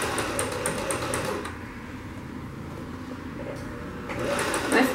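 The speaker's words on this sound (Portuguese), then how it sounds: "ajeitando o tecido aqui, estica ele e costura" Domestic sewing machine stitching stretchy lastex dress fabric, a steady close whirring run that eases off briefly mid-way and then picks back up at full speed.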